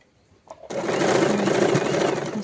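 After a brief click, a sewing machine starts up and runs steadily while stitching frills onto a girl's frock, giving a loud, close, continuous whirring rattle.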